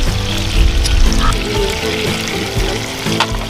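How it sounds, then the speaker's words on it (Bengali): Water is poured into a hot pan while kochu (taro) leaves cook with cumin paste and hilsa head, giving a loud, continuous splashing pour over a steady sizzle. "একটু জল দিলাম"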